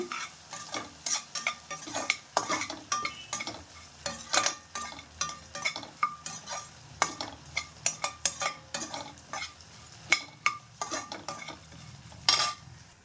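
Ingredients for a kurma are stirred and sautéed in a hot pan off the flame, with a steady run of close scraping, clinking utensil strikes and a soft sizzle throughout, with no talking.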